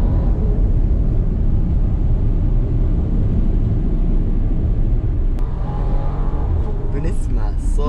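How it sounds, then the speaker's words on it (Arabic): A British luxury SUV with ceramic brakes accelerates hard, turbochargers spooling. It produces a loud, steady engine and road drone heard from inside, with a brief voice near the end. "بنسمع صوت التربوهات صراحة رائع، تحسوا التربوهات وهي بتفتح معاكم من جد"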